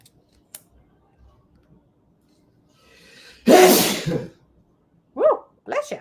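A single loud sneeze bursts out close by after near silence, followed by a couple of short vocal sounds.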